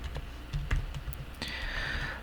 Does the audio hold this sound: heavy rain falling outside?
no